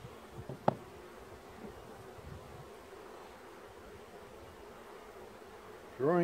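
Honey bees buzz faintly around an open hive during an inspection, a low continuous hum with one brief sharp tick early on and a louder burst of sound at the very end.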